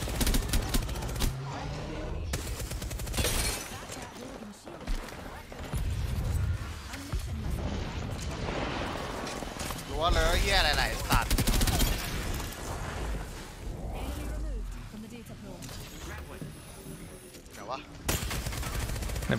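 Rapid video game gunfire, repeated automatic bursts and heavy shots filling the whole stretch, loud and close, with a crash or explosion-like hit midway.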